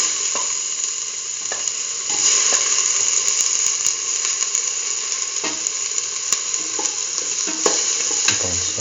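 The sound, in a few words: sauteing chayote with tomato pieces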